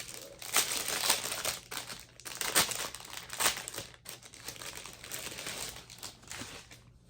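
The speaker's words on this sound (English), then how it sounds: "I'm actually going to take it out. Sorry for the crinkle." Plastic packaging crinkles and rustles up close in repeated bursts as 28 count Lugana embroidery fabric is pulled out, loud and uneven throughout.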